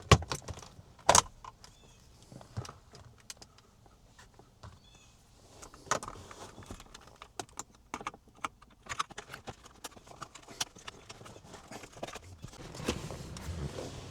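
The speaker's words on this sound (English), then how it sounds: "First we remove this rear trim." Plastic rear console trim being pried and pulled from a 2017 BMW 7 Series interior, giving a run of sharp clicks, snaps and rattling knocks, close and intermittent over about fourteen seconds with no talking.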